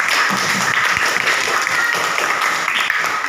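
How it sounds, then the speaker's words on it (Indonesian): A class of pupils applauds together in a classroom, a loud, dense and steady patter of many hands clapping at once for the whole stretch, with no voices standing out. "Ya, kita kasih tepuk tangan dulu."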